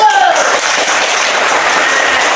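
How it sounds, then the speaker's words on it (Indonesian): Children in an Indonesian primary classroom applaud together during a lesson, producing a loud, close, continuous patter of clapping with a short tonal sound at the very start. "beri tepuk tangan dulu"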